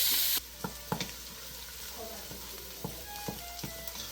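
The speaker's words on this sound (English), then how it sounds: "Then I'm going to saute some onions with a pinch of salt." Onions with a pinch of salt sauté in oil in a pan for fried rice, a steady low sizzle broken by several sharp spatula scrapes and clicks at an irregular pace, with no voices.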